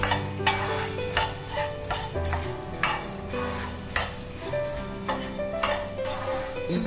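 Coriander seeds roast in a pan while being stirred, giving a steady close sizzle with repeated scraping strokes, for a Telugu spice powder (kaaram podi). A faint tonal hum runs underneath.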